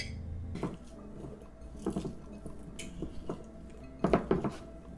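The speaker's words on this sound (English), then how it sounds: "Now I'm gonna cut up some of these tomatoes." A knife slicing through tomatoes on a cutting board, several soft wet cuts and board knocks spaced unevenly at close range, with a kitchen hum running underneath.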